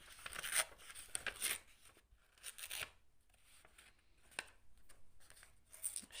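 Paper is torn by hand in a series of close, dry ripping bursts of varying length, separated by short pauses, in a quiet room.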